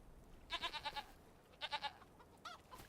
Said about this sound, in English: Oh, we got some adult goats.